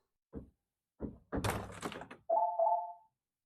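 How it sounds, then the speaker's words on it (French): A couple of dull knocks and a short rustle, then a clear electronic beep tone sounding twice in quick succession, close and fairly loud. "il y a un petit bip à l'ouverture de porte"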